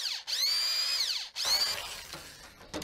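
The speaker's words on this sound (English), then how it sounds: "Have you ever used a drill like that before?" A power drill whining up to speed in two high-pitched bursts, the motor pitch rising and holding before cutting off, followed by quieter grinding and rattling, close and loud.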